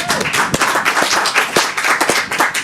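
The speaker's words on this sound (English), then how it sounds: "So let's give all those people a round of applause" A live audience at a Rochester indie music showcase giving a round of applause, with close, distinct claps from a modest crowd over a bed of lighter clapping, lively and uneven for a few seconds.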